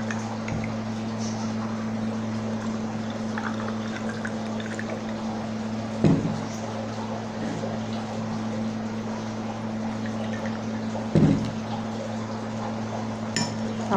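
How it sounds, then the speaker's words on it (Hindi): Cold water pours into fennel (saunf) sharbat in a long, continuous, moderately quiet stream over a steady background hum, broken by two short knocks of a vessel. "तो इसमें हम डालेंगे ठंडा पानी,"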